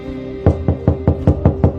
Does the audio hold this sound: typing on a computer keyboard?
no